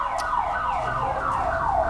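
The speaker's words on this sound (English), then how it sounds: "was that annoying siren?" A loud electronic siren on an autonomous vehicle in the Urban Challenge robotics competition, wailing in repeated rising and falling sweeps, steady and close throughout with no talk.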